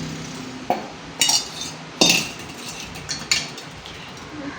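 A spoon clanks and scrapes against a pot while a dissolved palm jaggery (karupatti) mixture is stirred into a cooking kali, in irregular bursts of metallic knocks with quieter scraping between them.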